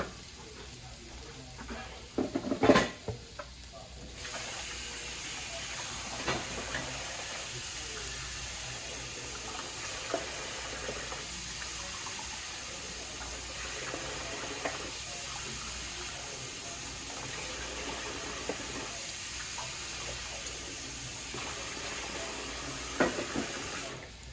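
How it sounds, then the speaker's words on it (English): A quart of flavored liquid is poured into a hot pan to deglaze it for gravy, giving a steady watery rush and faint sizzle that runs for over twenty seconds with a few clinks, no talk. "Now, I'm going to add the liquid."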